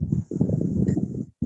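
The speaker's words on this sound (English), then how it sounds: "look at the size of these horses" Large horses clop their hooves along a New York City street, a steady close run of hoof strikes with street noise around them.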